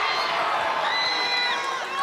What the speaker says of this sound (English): Big cheer from the Wimbledon fans as a tackle is made.